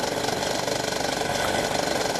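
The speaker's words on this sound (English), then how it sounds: "The engine should be allowed to warm up at low power settings for 3 minutes." A model airplane engine warms up at low power, giving a steady, close buzzing drone with no pauses or voices.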